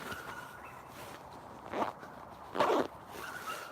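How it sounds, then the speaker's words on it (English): A coat pocket zip is pulled closed outdoors near a level crossing, two short, close rasping strokes over a faint steady background hum. "just gonna do my zip up in my coat pocket"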